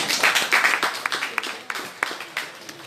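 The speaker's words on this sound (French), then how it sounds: "on peut l'applaudir" An audience claps at a church teaching session, a scattered, uneven burst of hand claps that fades in and out for a few seconds without talk over it.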